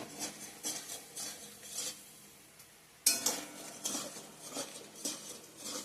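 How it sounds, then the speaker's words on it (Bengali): Fried taro and potatoes are added to a pan of fried spice paste and stirred: faint, intermittent scrapes and clinks of a utensil against the pan, a brief lull, then a sharper burst of stirring and clatter. "এখন সবজিগুলা অ্যাড করে দেব।"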